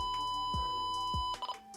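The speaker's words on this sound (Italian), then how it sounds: "al termine del beep potete vedere che inizia a lampeggiare e appare una scritta call" Electronic beeps from an Icom IC-M25 Euro handheld VHF marine radio as the channel 16 button is held down: a couple of steady tonal beeps with small clicks, close and clear, with no talking.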